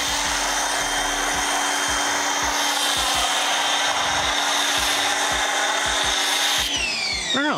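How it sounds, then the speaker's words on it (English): A pressure washer running low on pressure sprays through a foam cannon while washing a Subaru WRX STI, a steady loud hiss and rush held throughout, with a brief shift in tone near the end. "my pressure washer is running low on pressure, which is why it's not producing as much foam as it used to"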